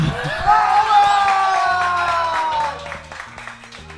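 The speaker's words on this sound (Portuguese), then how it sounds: "Palmas!" A studio audience bursts into applause and cheering at the close of a science-satire programme segment, with whoops and clapping over a musical sting that fades toward the end.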